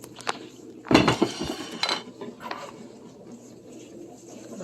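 Metal utensil scraping and clinking against a pot while mixing Asian sauce into peanut butter chicken, a loud clatter followed by a few lighter taps and scrapes, close by in a quiet room.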